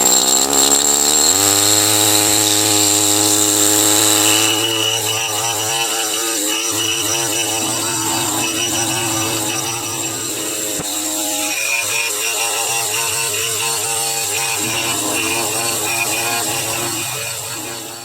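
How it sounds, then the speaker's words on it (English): An air compressor runs loud and close while a fossil crab is prepared, a steady mechanical drone that shifts pitch and settles into a rough, pulsing hum for the whole stretch with no talk over it. "Sorry about that, compressor."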